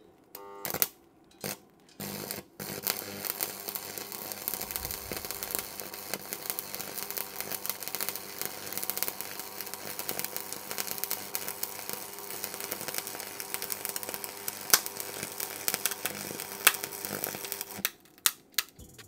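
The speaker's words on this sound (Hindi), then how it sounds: "अब चलिए बढ़िया से इसमें वेल्डिंग करके देखते हैं।" Homemade arc welding machine running at increased current, welding a long bead on steel plate: a few short sputtering strikes, then a steady, close crackling buzz for about fifteen seconds before it cuts off.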